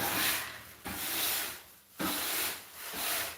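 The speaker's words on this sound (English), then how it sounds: "I'm just going to use my hand sander and go nice and slow" A hand sander works slowly across a bare floor after carpet removal, making long rasping back-and-forth strokes, each a steady gritty hiss with short gaps between passes, close and clear.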